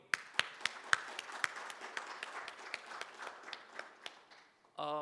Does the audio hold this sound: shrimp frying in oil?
no